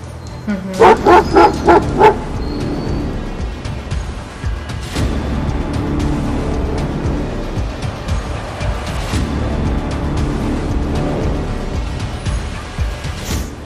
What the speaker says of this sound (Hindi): जरा सी आहट होते ही अलर्ट हो जाते हैं खूंखार कुत्ते